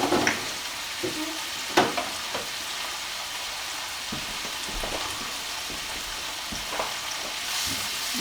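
Mushrooms sautéing in a pan, seasoned with garlic powder, black pepper and salt, give a quiet steady sizzle broken by occasional clicks and stirring scrapes, with no voice.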